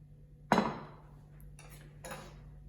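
Bowl for salad dressing set down on a counter: one sharp close clink, followed by a couple of softer knocks, over a low steady hum.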